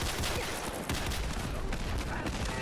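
Automated turrets in a video game fire in dense rapid bursts, a loud continuous crackle of gunfire that fills the whole moment with no pause.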